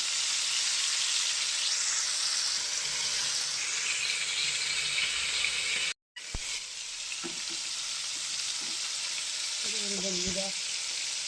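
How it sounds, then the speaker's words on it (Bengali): Prawns fry in a pan with a steady, loud, close sizzle, broken once by a brief cut. A few soft clinks and stirring sounds follow toward the end. "দেখুন চিংড়ি মাছ ভাজা হচ্ছে"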